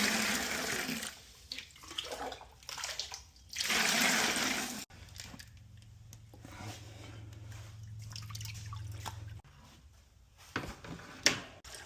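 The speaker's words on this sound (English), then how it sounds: "And as I pour this slowly, I can watch to make sure I'm not pouring any baby fish" Old pond water poured out slowly while breaking down a pond, heard as soft splashing and trickling that surges in bursts early on, then settles into a quieter, steady liquid flow with a faint hum beneath.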